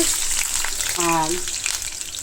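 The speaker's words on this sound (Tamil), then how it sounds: "பச்சை வாசனை போகிற வரைக்கும் நம்ம வதக்கணும்" Chopped onion, ginger, garlic and green chilies with a pinch of salt sauté in sunflower oil, a steady close sizzle, with a brief voice-like tone partway through.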